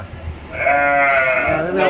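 Goats on a goat farm bleating in a drawn-out, wavering call that rises near the start and holds through the clip, close and fairly loud, with low rumbling background noise beneath.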